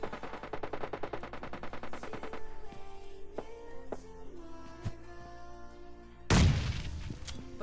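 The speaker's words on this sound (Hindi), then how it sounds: "बंदा ग्रेनेड से थोड़ा बहुत यहाँ पे डैमेज होता है।" A grenade in PUBG Lite bursts in a loud, sudden blast near the end, after a run of rapid automatic gunfire and scattered single shots against game music.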